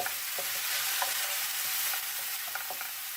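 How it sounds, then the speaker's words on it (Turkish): Tantuni meat being sautéed in a pan with red pepper, black pepper and cumin makes a loud, constant sizzle, with faint stirring scrapes and clicks and no voices. "baharatlarımı, kırmızı biber, karabiber ve diğer baharatlarım, kimyonumu katıp bunlarla birlikte tantunimin içine güzelce kavuruyorum"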